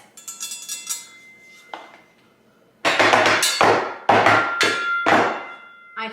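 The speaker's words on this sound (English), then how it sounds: "next up we have the flat top spatula set" Metal flat top griddle spatulas from a Traeger kit being handled and knocked together, a run of sharp clinks and clanks, then louder bursts of ringing metal clatter in quick succession, close and alone.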